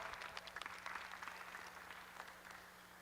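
An audience applauds competitors at an open Red and White heifer show at the Kentucky State Fair, a steady, faint patter of many hands heard from a distance.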